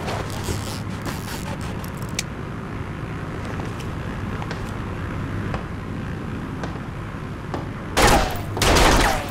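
Sustained gunfire in the video game Serious Sam 4, a dense, continuous rattle of rapid shots over a roaring background, with two louder blasts near the end.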